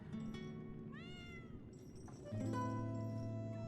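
Kitten in Lies of P video game meowing up close, a rising mew followed by further high cries over a low background hum.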